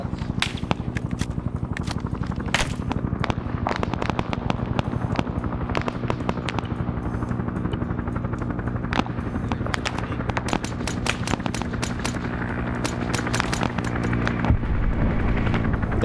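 Rapid gunfire rattles through a video game military operation, with dense bursts of shots repeating steadily over a constant low rumble.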